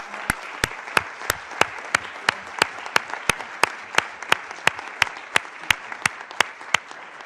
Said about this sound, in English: One more round of applause for our brilliant speakers here on this panel.